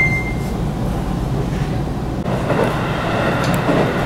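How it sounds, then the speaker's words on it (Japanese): Train on the JR Iida Line accelerating across flat basin terrain, with a steady loud rumble of wheels and motor building up, continuous and close from inside the carriage. "平坦なエリアを列車は速度を上げて"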